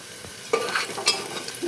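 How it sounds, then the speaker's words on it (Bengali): Onions frying in a pan with meat about to go in, a soft steady sizzle with a few light clatters of stirring, close and moderately quiet. "তার জন্য পেঁয়াজ বাজতেছি।"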